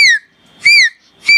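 A voice imitates a koel's call with three rising, whistle-like hoots spaced evenly apart, loud and close with brief pauses between.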